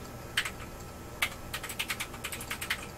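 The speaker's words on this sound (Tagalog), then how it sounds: "Ingay ng keyboard mo, Grant" A computer keyboard clatters close by in quick irregular bursts of keystrokes, a few sharper presses standing out, with no talk over it.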